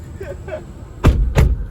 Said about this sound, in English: All right, well, let's shut the doors.